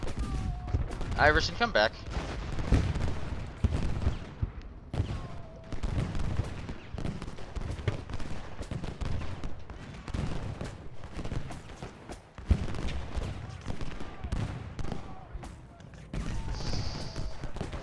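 Canister shot artillery fire in the Ultimate General: Gettysburg battle game, heard as repeated booms and crackling volleys over the continuous din of combat, with a voice shouting an order early on.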